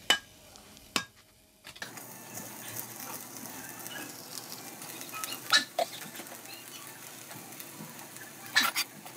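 Boiled rice tipped into cooked vegetables for a vegetable biryani and stirred in a pot, with a couple of sharp knocks early on, then a faint ongoing sizzle and occasional scraping stirs, no talking.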